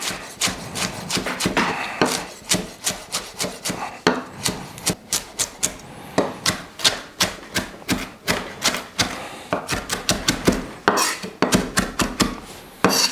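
A knife chops fresh ramps on a cutting board in quick, rhythmic strokes, each a crisp close tap against the board, continuing steadily for several seconds with brief pauses and no talking.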